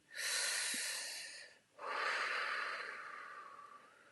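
One deep, slow breath during a guided wellness exercise: a long, airy inhale, a brief pause, then a long, fading exhale, close to the microphone with no talking.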